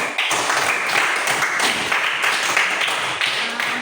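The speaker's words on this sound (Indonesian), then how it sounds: "Tepuk tangan dulu buat semua." Loud, close clapping from a classroom of students during a teaching session, a burst of quick hand claps that continues steadily for a few seconds without speech.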